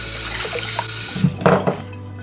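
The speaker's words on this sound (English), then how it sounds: "I'm going to add 2 cups of cold water" Cold tap water pours into a pot of rinsed rice in a kitchen while sushi rice is being prepared, a steady close rush with splashing that grows stronger midway, then stops, with no talking.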